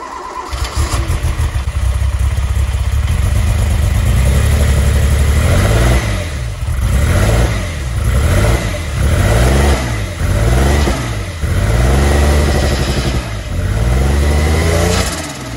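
A Venturi 400 Trophy sports car engine cranks and fires up, then revs repeatedly in rising and falling surges, loud and close, with no voices.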